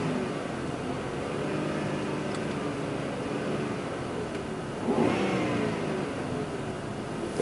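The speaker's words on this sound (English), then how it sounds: "maybe rev this up a little bit" A 1998 Chrysler engine running in the garage and revved up, a steady mid-pitched idle swelling briefly into a rise near the end, fairly faint and heard without talk.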